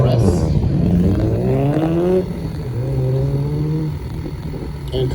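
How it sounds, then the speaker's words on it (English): A 2013 FRS launches from an autocross start line at Daytona Speedway, its engine revving loudly and rising in pitch through the gears, then easing and climbing again as it pulls away, with a voice talking over it. "And just took off at the line, Angelina in the 2013 FRS."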